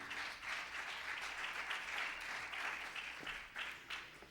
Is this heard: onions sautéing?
no